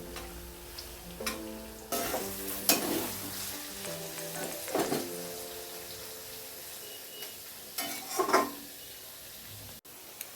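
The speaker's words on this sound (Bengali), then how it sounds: "বিনস মটরশুঁটি কাঁচা লঙ্কা সব একবার দিয়ে আবার একটু ভেজে নিতে হবে" Potatoes, carrots, beans, peas and green chilli frying in a pan for chowmein, a quiet steady sizzle broken by louder bursts of stirring and clattering utensil scrapes.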